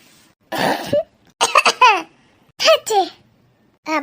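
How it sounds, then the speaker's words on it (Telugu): A person with a cold coughs in a few harsh, close bursts separated by short pauses, mixed with voiced, laugh-like sounds. "ఏందో తుమ్ముతాండ్రు దగ్గుతాండ్రు"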